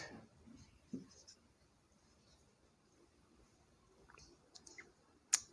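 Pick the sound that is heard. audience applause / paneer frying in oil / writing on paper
writing on paper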